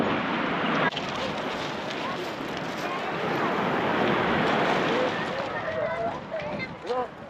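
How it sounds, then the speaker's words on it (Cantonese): Large sea waves surge and crash over big rocks on the Lyme Regis shore of the Dorset coast, a continuous roaring wash with wind buffeting the microphone and voices faintly underneath. "呢啲浪係好大嘅喎，真係。"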